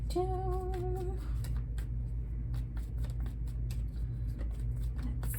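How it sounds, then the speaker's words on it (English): Tarot cards riffle and flick in quick, irregular bursts over a steady low background hum, close by and fairly quiet, with no one speaking. "One more shuffle here."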